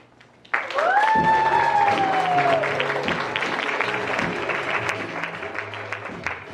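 Audience applause at a writers' open mic, a burst of clapping starting suddenly and sustained throughout, with a brief tonal whoop or cheer over it at the start.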